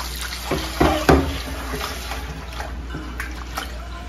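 Rice being rinsed in water in a home kitchen, with soft sloshing and trickling, a few brighter splashes near the start, then steady quieter swirling.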